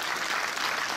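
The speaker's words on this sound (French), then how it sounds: "Merci au cinéma L'Estran aussi, à Yvonique, qu'on peut applaudir aussi" Steady audience applause fills a cinema hall for about a second, a dense, even wash of many hands clapping at once with no voices standing out.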